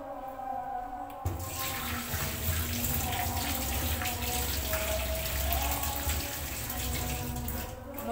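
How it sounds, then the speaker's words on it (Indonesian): Running tap water pours as hands are washed in a clinical setting, a steady splashing flow that starts abruptly after a quiet moment and continues close by. "Kita cuci tangan 6 langkah dengan membasahi tangan dengan air mengalir"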